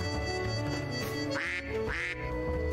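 A cartoonish duck quack from the Duck Detective video game sounds two or three times over steady, loud background music, with no talk in the clip.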